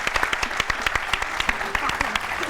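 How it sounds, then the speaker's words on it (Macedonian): Scattered, moderately close hand claps fill the air for a TV show guest, a small group clapping with uneven sharp hits, with speech faintly underneath. "аплауз за Софија Гогова Врчаковска"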